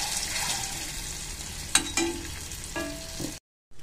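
Eggs fry in a pan for a spicy Bengali egg curry, browning with a red coating, producing a soft, steady sizzle with a few brief clinks of a utensil before it cuts off.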